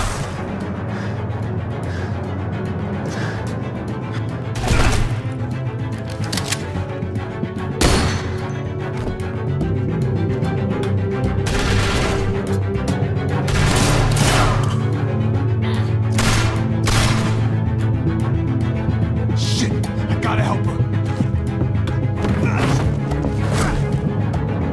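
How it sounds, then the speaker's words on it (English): Gunfire in The Walking Dead video game: scattered sharp shots and heavy impacts crack out at irregular intervals, some in quick clusters, loud over a low, droning game soundtrack. "I hear gunfire."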